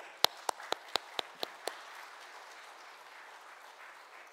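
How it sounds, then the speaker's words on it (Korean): Seven sharp, evenly spaced claps ring out in a church for the choir, then stop, leaving a quiet room hiss. "우리 성가대원들 위해서 박수 부탁드립니다."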